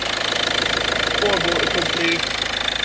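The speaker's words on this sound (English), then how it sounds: "As you can hear, that's not a sound you want to hear on a Volvo, is it? Clattering on." Ford DV diesel engine, a 2-litre Citroen-Peugeot design, clattering at idle in a Volvo, a steady knocking rattle with someone talking over it.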